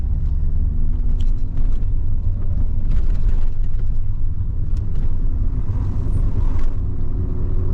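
Vauxhall Astra estate with a 2.0 engine and manual gearbox pulls along the road, its steady engine rumble and road noise loud and close throughout, with a slight shift in tone as the gear changes.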